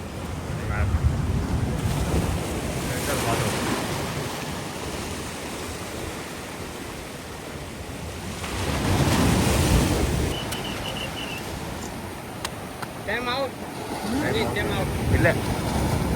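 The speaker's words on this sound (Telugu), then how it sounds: "కెరటాలు ఎంత బాగా పడుతుంది." Ocean waves break and wash onto a beach at night near Auroville, Puducherry, a broad roaring surf that swells and recedes in surges, with wind buffeting the microphone and a faint tonal sound late on.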